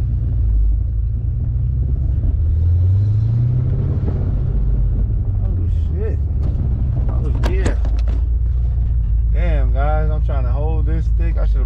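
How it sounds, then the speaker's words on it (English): A Ford Mustang with a stick shift, driven at a dealer auto auction, fills the cabin with a deep, steady engine rumble that rises and falls as it revs, while someone talks loudly over it. "It sound like a V8."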